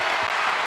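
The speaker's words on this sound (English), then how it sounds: "Crowd's going nuts." Sold-out crowd roaring at the Kennel during a Gonzaga vs UC Irvine women's NCAA tournament basketball game, a brief, loud and dense wash of cheering and clapping.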